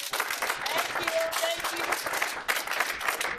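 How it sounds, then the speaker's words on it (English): Applause at an inauguration gathering held in a restaurant: a crowd claps in brisk, uneven bursts while voices and cheering mix in, fairly close and busy, with a brief dip midway. "Give them a round of applause."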